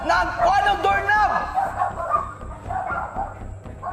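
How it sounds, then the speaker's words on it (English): Neighborhood dogs barking and yipping at night, several loud, close barks in quick bursts followed by fainter, more scattered barking. "The neighborhood dogs start barking as he continues to holler"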